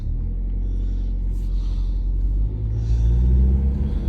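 Car engine rumbling low and steady while backing out of snow, a deep continuous drone that swells slightly near the end, close and without talk.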